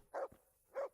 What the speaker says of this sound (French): C'est un bon chien, ça.